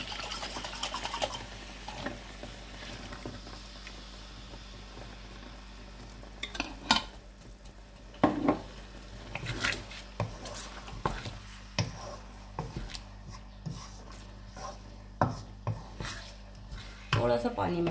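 Minced meat cooking on low heat in a pan with a little water, with a soft steady sizzle and intermittent scrapes and clinks of a spoon stirring against the pan, close by and without talking.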